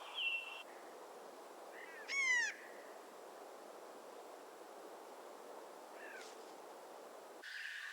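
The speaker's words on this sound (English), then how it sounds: "any number of songbirds will step forward to sing a solo." Birds call in the open air at Mount Rainier, a few separate clear whistled phrases rising and falling against a steady broadband background hiss.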